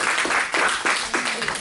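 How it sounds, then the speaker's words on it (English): Audience hand clapping at a church service at Abundant Life in Graford, Texas, a fairly even patter of applause with a few louder bursts, while voices can be heard mixed in. "Everybody give her a good hand clap."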